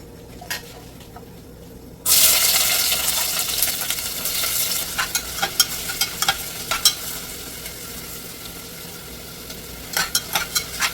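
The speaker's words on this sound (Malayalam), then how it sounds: "നമ്മൾ അരിഞ്ഞു വെച്ചിരുന്ന സവാളയെ കുറച്ചിട്ട് നന്നായിട്ട് വഴത്തി യോജിപ്പിക്കാം" Sliced onions hit hot oil for a prawn biryani, breaking into a loud, steady sizzle after a quiet opening, with intermittent scraping clinks of stirring throughout.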